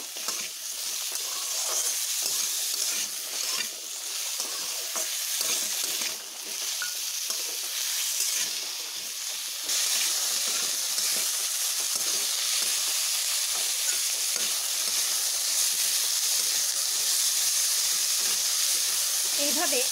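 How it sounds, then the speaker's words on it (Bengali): Pieces of wax gourd fry with salt in a pan, giving a steady close hiss and sizzle that runs throughout and grows slightly louder midway. "নুন মিশিয়ে একটু ভালোভাবে ভেজে নেব।"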